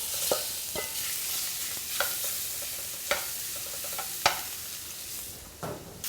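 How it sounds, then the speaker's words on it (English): Shrimp go into a skillet with jambalaya and sizzle in oil rendered from andouille sausage, a steady frying hiss broken by several sharp scrapes and clacks of stirring, up close and with no voices. "Now we're going to add the shrimp into the skillet."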